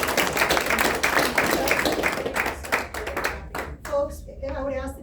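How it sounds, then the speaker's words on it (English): Public audience clapping at a budget meeting, a dense burst of many hands that thins out toward the end as a voice begins speaking over the last scattered claps. "I would ask that you not clap."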